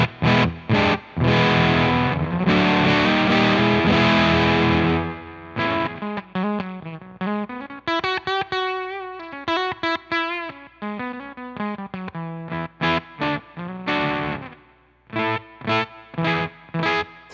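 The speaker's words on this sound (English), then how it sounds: "So some super kind of glitchy 8-bit tones there with the pre-gain down, fuzz up, and rolling down on your volume control." An electric guitar runs through a GGG TOCT Octavia clone fuzz pedal with pre-gain down, fuzz up and the volume rolled back. It plays loud, glitchy 8-bit-style buzzy notes in choppy bursts with abrupt gated stops and sustained octave-fuzz tones, and no talking.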